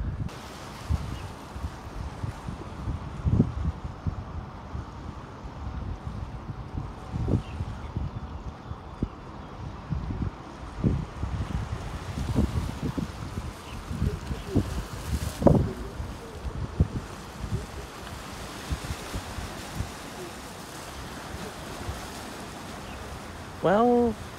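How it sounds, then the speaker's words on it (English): Strong gusty wind buffets the microphone at Heng Fa Chuen waterfront promenade in Hong Kong during a severe tropical storm under a strong wind signal, with rumbling bursts rising and falling over a low roar and faint voices now and then. "all the winds are generally fresh and strong"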